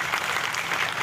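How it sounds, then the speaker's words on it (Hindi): Brief burst of audience applause at a memorial day event for Rani Durgavati, steady dense clapping from a crowd for about a second. "जरा जोरदार ताली बजाइए"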